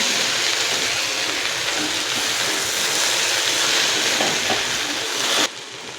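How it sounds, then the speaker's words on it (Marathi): Okra frying in a pan and being stirred after the lid comes off, giving a loud continuous sizzle and scraping that drops away abruptly near the end. "भेंडी व्यवस्थित हलवून घ्यायची आहे"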